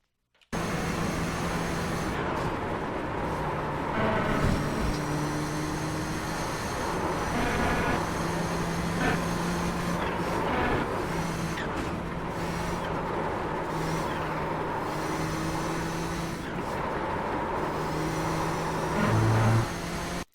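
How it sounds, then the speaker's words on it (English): A Nissan GTP ZX-T race car engine in iRacing drones steadily through the Porsche Curves at Circuit de la Sarthe, revs rising and dipping as the throttle is eased on and off, continuous and fairly loud throughout. "you can hear a lot of modulation of the throttle"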